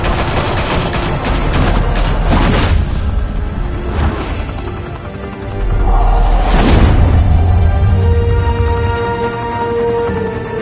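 Rapid bursts of gunfire crackle in the Batman: The Telltale Series video game, dense volleys of loud shots and booms in the first seconds, then heavier blasts and a low rumbling roar toward the end.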